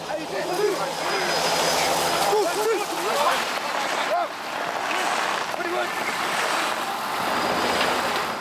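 A helicopter hovers above an escaped elephant during an African wildlife rescue, its steady broadband roar loud and continuous throughout while a voice speaks over it.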